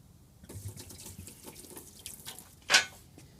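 A hose sprays water onto a bedlined Jeep interior, heard as a close, hissing wash of water that builds to a brief loud burst near the end, with no voices.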